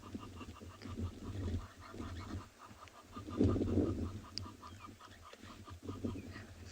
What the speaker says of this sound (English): To me, this Egyptian goose really sounds like an old car trying to start.